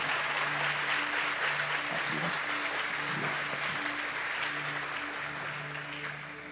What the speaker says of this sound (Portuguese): Aplaudir ao Senhor por isso?